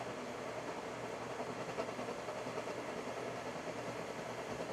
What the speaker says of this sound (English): You can hear my forge sputter.